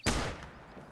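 A single hunting rifle shot in the hunting video game The Hunter: Call of the Wild, a sharp loud crack followed by a decaying echo with no talk over it.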